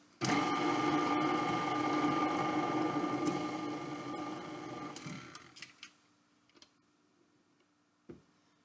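Zucchini bread batter being mixed, a loud, close, steady motorized whir for about five seconds that then winds down to quiet, followed by a few faint clicks and knocks.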